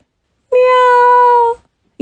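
A single clear cat meow, drawn out for about a second, close and loud with no talking over it.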